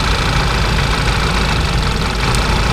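A car engine idles roughly with a misfiring cylinder, a steady, loud, uneven churning close by with no voices over it.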